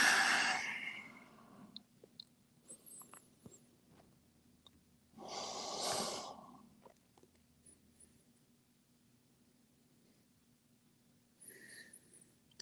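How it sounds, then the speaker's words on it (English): Slow, deep yoga breaths in a quiet room: a long audible exhale at the start, another drawn-out breath a few seconds later, and a softer one near the end, close and gentle over a faint hum. "Just one more breath in"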